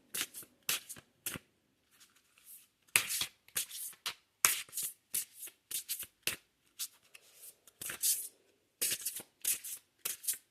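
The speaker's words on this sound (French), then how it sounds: "Allez, encore un petit tour de cartes." A deck of cards shuffled by hand in bursts of sharp riffles and soft slides separated by short pauses, close and quiet with no talking.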